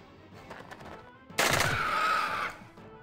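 One close burst of rapid automatic gunfire in Jagged Alliance 2 lasts about a second after a quiet stretch, then fades into a ringing tail.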